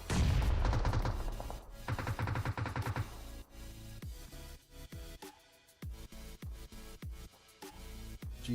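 Gunfire from a PUBG Mobile esports match cracks in dense, loud bursts at first, then thins into sharp single and paired shots spaced out over several seconds.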